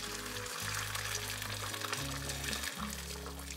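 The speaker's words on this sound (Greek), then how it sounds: "προσθέτω νερό" Water poured into a pot of simmering beef with green beans and fresh tomato makes a steady, close hiss and sizzle that runs unbroken, with a low hum beneath it and no voices.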